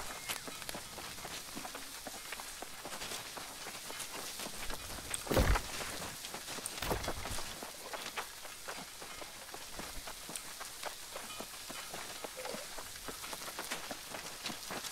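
Steady rain falls throughout a New World game scene, a dense even hiss with light patter, broken briefly by a few louder thuds and scuffs near the middle; no talking.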